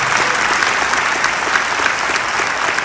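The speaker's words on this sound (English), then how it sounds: "Let's give a round of applause for the white community." Steady applause fills a crowd at a San Diego FC gathering, dense and continuous clapping without a break, fairly loud and close throughout.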